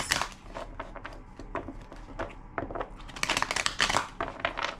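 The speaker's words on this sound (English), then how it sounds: "Two more shuffles." Tarot cards being shuffled by hand, a series of quick papery riffles and crinkling bursts close up, irregular in rhythm and fairly quiet, with no one speaking over them.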